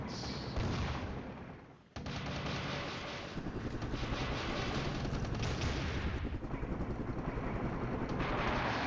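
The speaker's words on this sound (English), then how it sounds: "Attack helicopter doing some rocket engagements." Attack helicopter firing rockets in the Flashpoint Campaigns wargame, a dense rattle of rapid launches and booming impacts, with a brief dip and then steady repeated bursts, loud and continuous.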